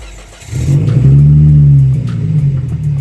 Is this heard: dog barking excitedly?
no